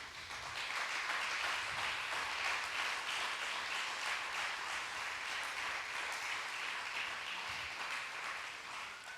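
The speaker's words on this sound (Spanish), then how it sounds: "Dale aplausos a Jesús." Congregation applause in a church, a sustained broad clapping from a crowd that swells early, stays even for several seconds and tapers slightly at the end.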